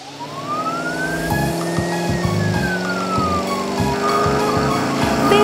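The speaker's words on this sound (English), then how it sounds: "And it has siren, siren, siren." A wailing emergency vehicle siren sweeps steadily up and down, loud and continuous, with rhythmic low thumps beneath it and no talking.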